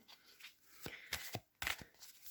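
Oracle cards are shuffled close up in several short, crisp papery bursts with brief pauses between them, ending on a sharp final flick.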